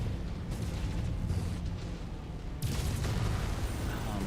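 Weapons fire and explosions tear into buildings during a Mechwarrior 5 battle, a continuous dense roar of booms and blasts with a louder burst of impacts near the end.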